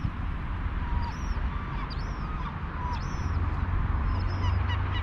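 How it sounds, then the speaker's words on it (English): Gulls repeatedly give loud, harsh calls in several bursts over steady wind and surf noise. The calls sound close and noisy. "Look, making all that noise, he forced all the other gulls to leave."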